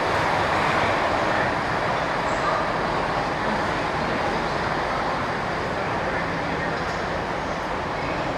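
Loud, steady ambience in Sheffield railway station with a broad rumble of trains and crowd noise, a constant wash of sound with no clear pauses.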